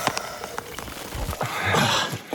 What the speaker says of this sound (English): we're trying to get packed out of here before the rain hits, and it looks like it's already hitting